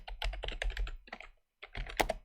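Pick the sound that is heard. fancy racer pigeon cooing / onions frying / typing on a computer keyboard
typing on a computer keyboard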